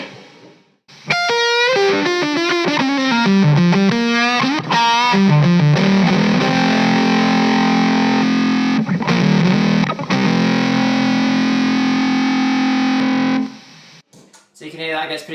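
An electric guitar through a Jext Telez Buzz Tone fuzz pedal in 9-volt mode, with a fast descending run, then big sustained fuzzy chords that ring out before cutting off.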